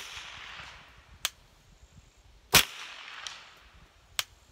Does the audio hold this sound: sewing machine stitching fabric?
no